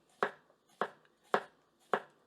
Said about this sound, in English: we'll keep cutting through here